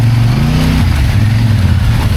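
An ATV climbs a trail in two-wheel drive, its engine revving loud and close with shifting pitch.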